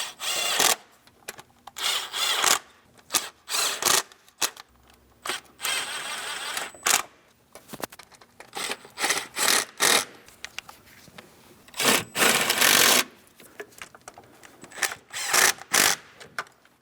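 Power tool bursts driving ignition coil bolts down on a Ford Transit van engine, several short whirring runs separated by pauses and clatter, close and loud with no talk.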